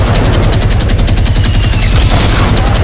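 Rapid automatic gunfire from a shooter video game, loud and continuous with dense repeated bursts filling the whole stretch, no voices over it.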